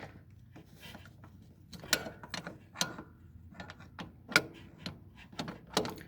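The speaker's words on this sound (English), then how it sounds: "Kind of a challenge getting my wrench in there." A wrench loosening a small hydraulic oil filter on a Ferris ISX800 mower, heard as faint, close metallic clicks, ratcheting ticks and occasional sharper knocks in an irregular rhythm over quiet background, with no talking.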